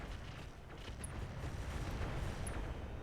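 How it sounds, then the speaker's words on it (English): A thermobaric explosion in the mech combat game Battletech rolls out as a steady, heavy low rumble that sustains loudly across the moment, with no talk over it. "Thermobaric explosion."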